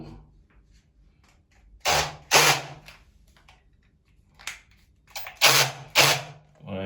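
Power drill bursts from a tradesman drilling holes for screws into ceramic tile, four short loud whirring runs in two pairs separated by quiet pauses, no talking over them.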